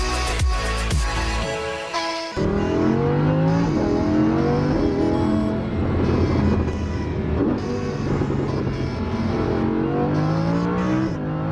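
A Pagani Zonda's V12 engine revs hard through several rising gear pulls, loud and close with a sharp, wailing exhaust note that climbs repeatedly in pitch.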